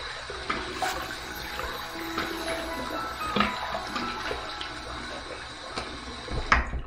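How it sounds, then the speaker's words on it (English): Water runs steadily from a tap for wetting the face before a shave, a continuous splashing flow with occasional louder splashes and hand movements, fairly close. "So let's go ahead, wet the face,"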